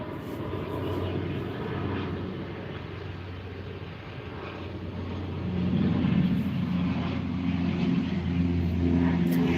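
A white airplane flying overhead outdoors, a steady engine drone that builds and grows louder toward the end as it passes, with no talking.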